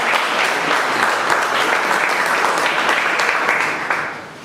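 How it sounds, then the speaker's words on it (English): An audience at a meeting claps in a dense, sustained burst of applause, close and loud, then thins slightly and tapers toward the end with no talking over it. "Let's give him a round of applause for the very good."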